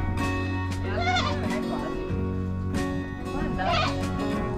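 Young goats on a farm bleating close by, several wavering cries rising over a continuous hum, while a person talks throughout.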